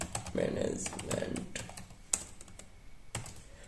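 Someone types a module name for an Angular CLI command on a computer keyboard. Several crisp keystrokes come in short bursts beneath someone talking.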